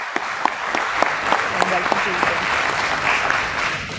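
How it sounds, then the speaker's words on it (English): A gathering at a stock exchange listing ceremony gives a round of applause, steady dense clapping with a few sharper individual claps standing out, heard without speech. "Can we have a round of applause for Shri Gargi?"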